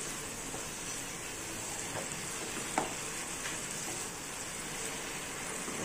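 Fried cluster beans being stirred into masala in a hot pan: a continuous, close crackling sizzle with a few soft scrapes of the spoon and no talking.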